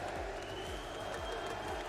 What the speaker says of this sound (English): And the 6th man of Furia gets a round of applause as well.